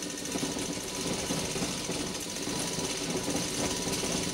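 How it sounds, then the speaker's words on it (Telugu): A sewing machine stitches baby pant fabric pieces together, running in a steady, fast, close mechanical whir with no pauses. "చూడండి నేనైతే మిషన్ మీద జాయింట్ చేస్తున్నాను"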